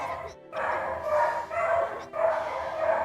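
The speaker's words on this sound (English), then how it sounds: "My dogs are going off because it is 7 o'clock now, and they are about to be fed." Several household dogs bark and yelp excitedly in repeated bursts just before their 7 o'clock feeding, fairly close and loud, filling most of the moment with a short lull near the start.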